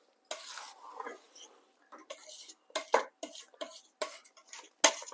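A spoon scraping and stirring sesame laddu mixture in a metal pot, a series of sharp, close scrapes and clinks in uneven bursts with brief silent gaps between.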